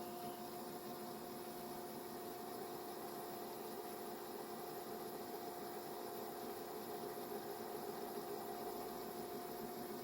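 An Akai VS-G745 hi-fi VHS recorder rewinding a tape in turbo mode gives a steady, faint mechanical whir and hum that holds even and unbroken throughout, with no talking.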